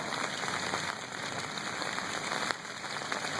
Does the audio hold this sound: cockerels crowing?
no